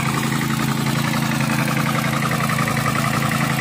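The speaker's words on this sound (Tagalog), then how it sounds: "pinaandar na nila yung isang makina pa" A water pump engine runs steadily after starting, a loud continuous mid-pitched drone with no voices.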